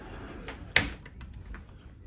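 A closet door in a cruise ship suite cabin opens with a single sharp click or latch knock, surrounded by a few faint soft bumps in a quiet room.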